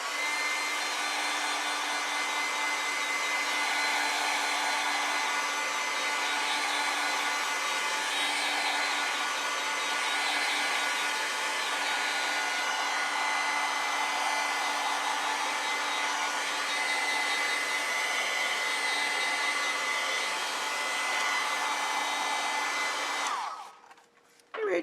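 A hair dryer blows on a watercolor and ink nature sketch to dry the ink, its continuous loud whir holding for more than twenty seconds before cutting off abruptly.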